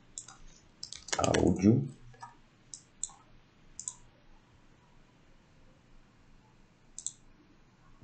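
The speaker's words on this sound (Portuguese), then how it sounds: "E eu clico com o botão direito, link, e aí eu colo o link." Soft clicks from a computer mouse tap out at irregular intervals, with one louder clatter near the start and a voice speaking briefly in between.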